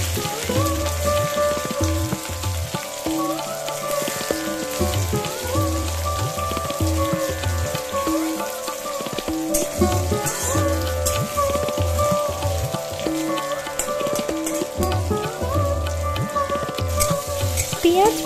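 Chopped onions frying in oil in a pan after a tempering of bay leaves and dried red chillies, making a loud, dense, rain-like sizzle that runs continuously, with occasional stirring and no speech.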